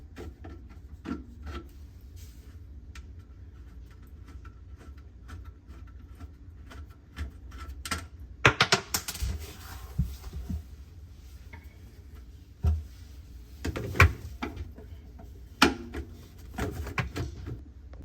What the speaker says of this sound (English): we're gonna get the screwdriver and get the disposal done